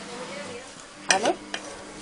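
Condensed milk is stirred into a coconut cake mixture with biscuits, giving a faint background hum, then a short wet scraping sweep of the spoon and one smaller scrape after it.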